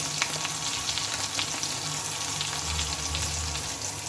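Spices with green chilli, cumin and coriander powder frying and being stirred in a pan for a cauliflower dhoka curry, a steady close sizzle with soft scraping stirs and faint clinks throughout, no talking.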